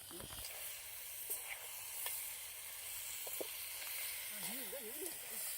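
Crab masala simmering and sizzling in a kadai outdoors by a lakeside, a steady low hiss and bubble throughout with a few faint clinks, and a brief sliding whistle-like sound near the end.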